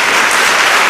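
Applause from a church congregation fills the short burst, a dense, steady wash of clapping hands with no voices standing out above it.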